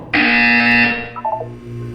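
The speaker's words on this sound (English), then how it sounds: "When you hear the buzzer, look up at the ceiling." A buzzer in the video game Portal 2 sounds once as a loud, harsh electronic drone for nearly a second, then trails off into a few short, quieter electronic blips.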